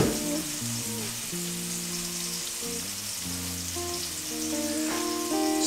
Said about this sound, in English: And we're just gonna fry these.